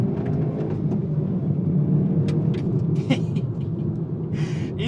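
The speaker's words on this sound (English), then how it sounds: "now for a mid-range acceleration pull, I'll bring it down a little bit. We're gonna bring down the speed. Here we go, get the nice pops out the exhaust" A 2022 Hyundai i30N hot hatch with a manual gearbox pulls through its mid-range, its engine a steady, droning rumble, with a few sharp exhaust pops crackling over it near the end.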